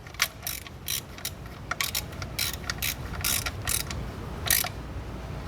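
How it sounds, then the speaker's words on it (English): A ratchet snugs up the drain plug on an Audi B8 A4 S-Line oil pan, giving repeated bursts of close, crisp clicking in an uneven rhythm over a low background hum, with no talking. "We're going to go ahead and snug it up with our ratchet."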